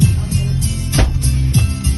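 Music plays through JBL car door speakers with a thumping bass beat that repeats at a steady tempo, loud and close.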